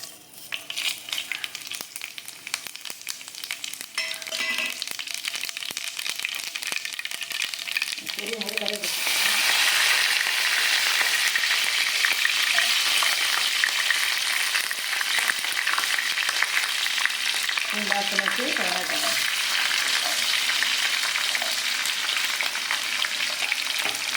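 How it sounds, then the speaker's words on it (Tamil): Oil sizzles and crackles as mustard, cumin and fenugreek seeds hit the hot pan for tempering, a loud steady frying hiss that holds to the end, with a stirring clatter now and then. "எண்ணெய் நல்லா காஞ்சிடுது. இப்போ பார்த்தீங்கன்னா இந்த கடுகு, ஜீரகம், வெந்தயத்தை ஆட் பண்ணிக்கலாம்."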